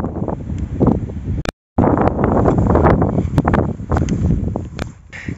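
Wind blowing through an orchard, a steady broadband rush with gusty swells and buffeting on the microphone, briefly cut by a moment of silence, no voices.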